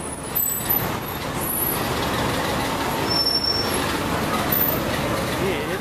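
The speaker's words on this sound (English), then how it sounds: "It's the crazy traffic in downtown Iguala." Heavy downtown traffic in Iguala, a dense steady roar of trucks and buses with an air-brake hiss and occasional high squeals, loud and continuous with no clear voices standing out.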